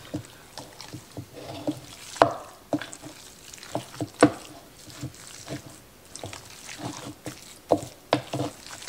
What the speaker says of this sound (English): I'm gonna mix as good as I can before I have to get my hands in there